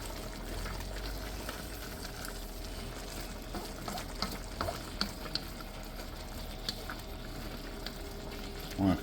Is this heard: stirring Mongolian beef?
yes